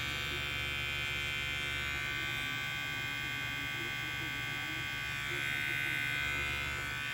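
A Panasonic Multi-Groomer men's trimmer runs steadily for several seconds with a constant, fairly quiet electric buzz and hum, close to the microphone and with no talking over it.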